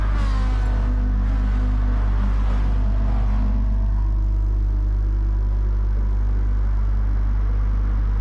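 Race cars accelerating off the start at Monza in a racing video game, with a loud constant low drone and rising engine whines over the first few seconds that then settle into a steady broadband roar.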